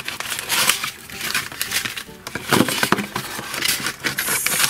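Packaging for a bath toy that makes water crackle is opened up close, with irregular crinkling and rustling of plastic and paper and a few scraping, tearing sounds.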